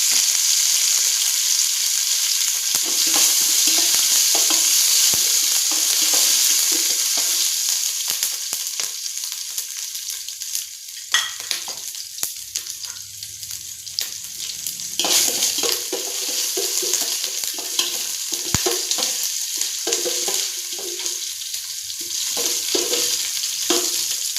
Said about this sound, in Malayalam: ചൂടായി വരുമ്പോൾ നമ്മൾ കടുക് ഇഞ്ചി ചതച്ച്